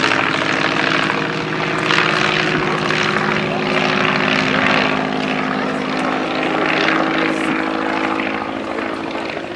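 A de Havilland DH-2, a First World War fighter replica with its engine mounted at the back, flies at an airshow. Its propeller engine gives a loud, steady drone that holds throughout with no talk over it.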